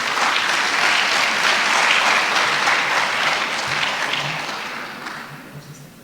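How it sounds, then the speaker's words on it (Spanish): Audience applause welcoming a speaker from Peru's National Elections Jury at a lecture forum, a full sustained burst that gradually fades out toward the end. "Lo recibimos con un aplauso"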